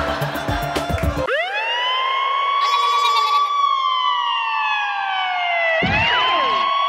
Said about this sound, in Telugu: నేను స్టార్ట్ చేశాను అంబులెన్స్.